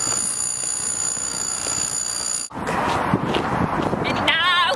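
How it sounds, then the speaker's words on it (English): A street fire alarm rings with a steady, piercing electronic tone at close range for the first half. After a brief dip the tone gives way to louder street noise with sharp transients. "Fire alarm."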